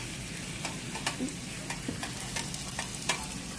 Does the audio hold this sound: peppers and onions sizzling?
yes